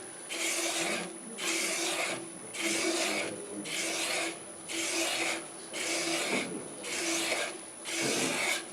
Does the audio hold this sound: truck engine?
no